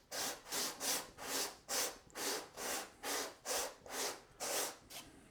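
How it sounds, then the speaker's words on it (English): Plaster is rubbed back and forth on 120-grit sandpaper in about ten even, rhythmic rasping strokes, each a close, bright scratchy swish separated by brief pauses. "a piece of sandpaper. This is some 120, so it's pretty aggressive actually. And we can just go back and forth."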